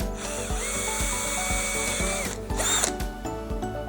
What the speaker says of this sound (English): I got a drill here. You just drill the top.